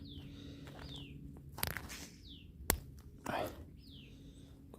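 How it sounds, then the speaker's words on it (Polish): Faint bird chirps with quick downward-sliding notes sound a few times in the distance, mixed with close rustling and handling noises. "ptaszki ładnie śpiewają, nie wiem czy wy to słyszycie"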